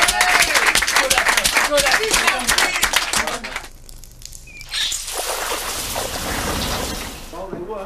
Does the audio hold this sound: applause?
yes